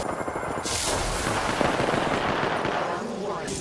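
Rapid automatic gunfire in the battle royale game Apex Legends, a loud, sustained burst of shots with a brief pause near the end.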